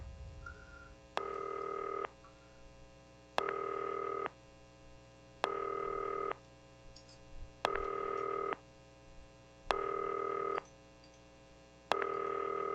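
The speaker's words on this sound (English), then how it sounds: "I guess you should pick up the phone?" A telephone rings in the video game Not for Broadcast, with six evenly spaced electronic ring bursts, each about a second long and separated by short pauses, clear and alone.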